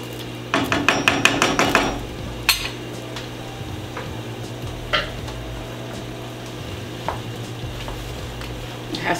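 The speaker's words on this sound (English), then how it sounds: "we're just gonna let this simmer and cook." Browning sauce simmering and cooking in a pan, opening with a quick run of metallic clanks and a knock, then settling into a steady, close sizzling hiss with occasional faint taps.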